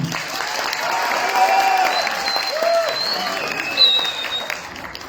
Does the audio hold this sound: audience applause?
yes